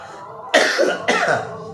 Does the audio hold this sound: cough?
yes